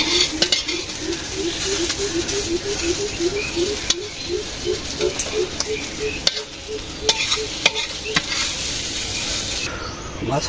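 Sliced bitter gourd (karela) stir-frying in a pan in a village kitchen, with a close sizzle under brisk scraping and clattering strokes of a spatula against the metal, quick and repeated.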